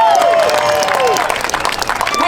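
A crowd at an outdoor veterans rally cheers and applauds, a dense wash of clapping mixed with whoops and high shouted voices, loud and close throughout.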